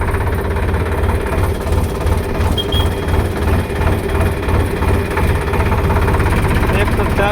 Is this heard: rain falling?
no